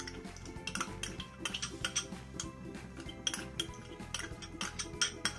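Ghee being added to a kadhai on a gas stove, with steady metallic clinks and scraping of utensils against the pan, close and continuous, with no talk.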